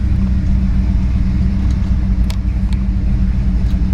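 A 1964 Ford Galaxie 500 with a 427 V8 idles steadily and loudly, its deep, even rumble continuous throughout, with a few faint clicks on top and no talking.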